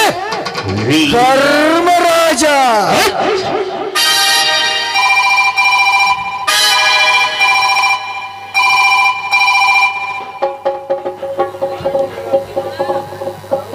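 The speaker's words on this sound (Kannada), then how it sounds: "ಫೋನ್ ಬಂದಿರೋದು ಯಾರು" A telephone bell rings in repeated bursts during a village stage drama (a Kannada folk play), loud and close, following an opening stretch of voices and music, with other sound continuing faintly under and after the rings.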